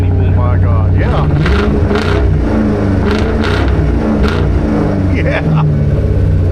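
A lowered Lincoln on coilovers, its mufflers removed, rumbles loudly and close with a deep, raw exhaust drone that swells through several revs while people talk over it.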